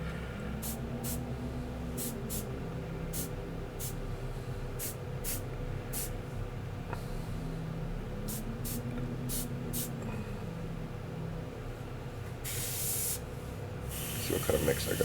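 Spray paint lightly misted onto clothing: a soft, steady aerosol hiss in short bursts, with faint ticking and a brief louder spray near the end.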